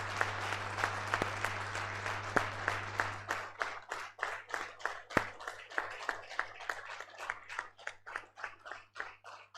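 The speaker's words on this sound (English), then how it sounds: "stand up and appreciate our daddies and mommies by clapping for them" Class members of 1995 at a 30-year post-graduation reunion applaud, dense clapping from the audience that thins into a slower, rhythmic patter of individual claps, fairly close, with no talking.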